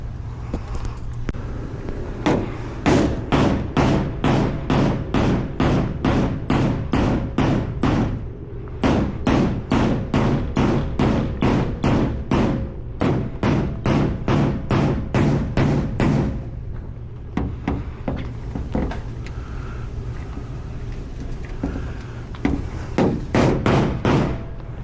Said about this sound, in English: looks like I'm gonna have to coerce them a bit with a hammer